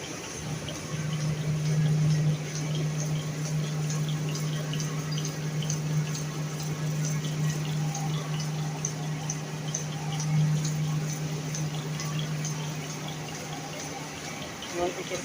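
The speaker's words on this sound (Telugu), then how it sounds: "మనకు ఇక్కడ వేస్ట్ వాటర్ అంతా వస్తుంది ఇక్కడ మనకి" Waste water pours steadily from a paper-making machine in a mill, a continuous broadband splashing rush with a low machine hum underneath, unbroken and fairly close throughout.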